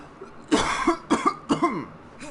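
Several harsh coughs in quick succession from one person at close range, loud bursts with short gaps and a fainter final cough, no speech.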